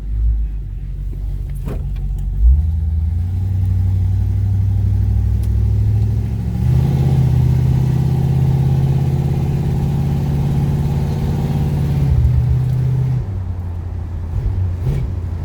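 A 1967 Chevrolet Impala with a turbo 350 transmission revs and accelerates, its engine rumbling loudly with rising pitch through gear shifts before easing off, heard close with no voices.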